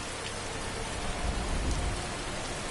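Steady rain in Skyrim, a dense continuous hiss of drops on surfaces with a low rumbling swell near the middle and no voices.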